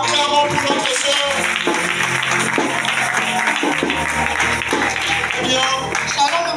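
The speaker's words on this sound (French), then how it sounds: "Acclamons pour notre sœur." A church congregation applauds to welcome a speaker, steady clapping running under music and vocal sound throughout, fairly loud.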